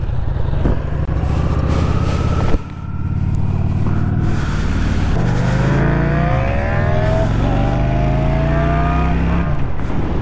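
A motorcycle on its first ride of the season, its engine loud and close as it revs up and down through several rising and falling sweeps, with a brief drop in power partway through before pulling strongly again.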